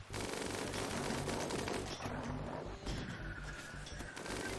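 Defensive turrets in the video game Rimworld fire sustained automatic bursts, a dense unbroken chatter of gunshots that stays loud and steady throughout.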